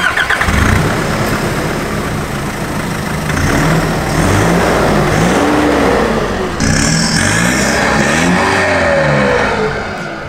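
A chipped pickup truck engine with straight-pipe exhaust, stated at 50 horsepower, idles roughly and revs loudly and close by, with repeated rising and falling pitch sweeps over a constant raspy roar and no talking.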